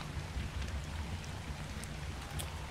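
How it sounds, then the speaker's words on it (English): Rain falling outdoors makes a faint, steady hiss of drops, even and continuous, with no voices over it. "Oh, typical, it's raining. It's raining."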